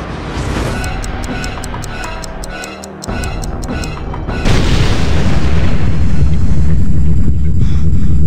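In the video game XIII, a planted bomb's timer ticks steadily before a loud, deep explosion erupts into a sustained, roaring rumble.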